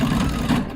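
A sewing machine stitches a quarter-inch seam along the folded edge of a garment, a steady close-up mechanical hum running unbroken throughout with a slight surge midway.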